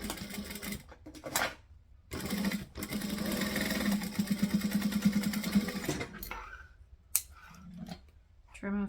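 A sewing machine stitches a zipper pocket closed on a bag lining, its motor buzzing in a steady run of rapid stitches for a few seconds between short pauses, with brief handling noises before and after.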